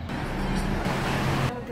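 Traffic on a California road heard from inside a moving car, a continuous low rumble of engines and tyres with a broad wash of passing vehicles, steady and moderately loud with no clear speech.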